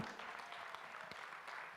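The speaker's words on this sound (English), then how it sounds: "Another round of applause to LAM Sisterhood." Audience at a global education forum gives a brief round of applause, quiet and distant, a short steady patter of clapping.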